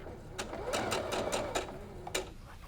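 A sewing machine fitted with an open-toe foot stitches a quilt top, a close mechanical whir punctuated by a rapid series of sharp needle clicks, with no one talking.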